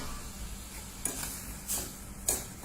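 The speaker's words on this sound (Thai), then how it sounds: "ก็ต้องใส่ กระเทียมคั่วก่อนนะครับผมเราจะได้คั่วให้มันหอมๆนะครับ" Garlic fries in hot oil for a Thai dish, a close steady sizzle broken by three distinct scraping strokes of a spatula stirring it in the pan.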